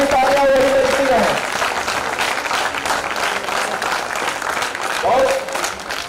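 A steady wash of audience clapping at a Hindi poetry recital fills the whole stretch, with someone talking over the applause at the beginning and again toward the end.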